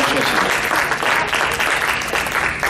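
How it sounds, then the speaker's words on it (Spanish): A church congregation bursts into dense, loud applause, a steady wash of many hands clapping together without a break. "Vamos a dar un aplauso al Señor."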